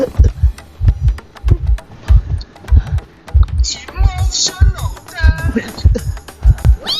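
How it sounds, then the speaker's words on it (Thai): Heartbeat sound effect from the game Identity V, heard through Bluetooth earphones: a loud, steady double-thump pulse repeats throughout, with brief high-pitched game sounds in the middle. "เสียงมันแปลกมากเลยเสียงหัวใจเต้น"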